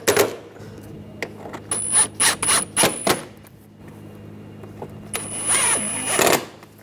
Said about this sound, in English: Now I'll put the screws in.